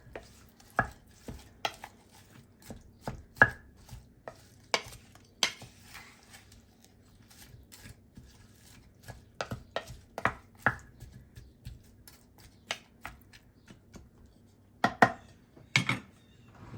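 Seasoning is worked into meat for a crockpot creamy beef stroganoff, giving irregular soft knocks and clinks of a utensil against the dish, fairly quiet, with a few sharper clusters of taps and no talking.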